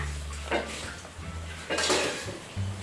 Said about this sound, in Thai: แล้วก็เราจะหั่นขนุนนะคะ